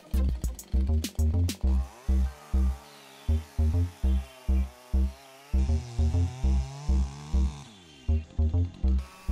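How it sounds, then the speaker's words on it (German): A chainsaw cuts the upper felling notch into a dead tree's trunk, revving loud and close in repeated surging bursts separated by brief dips. "Ich setze den oberen Fallkerbschnitt in genau der Richtung, in die der Baum fallen soll."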